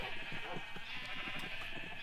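Sheep bleat in a video game, several soft overlapping bleats in quick succession over a constant faint background hum.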